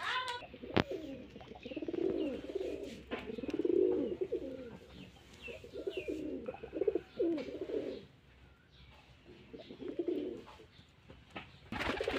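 Several pigeons coo in repeated low, throaty phrases at close range, rising and pausing across the stretch, with faint chirps and background noise between the calls.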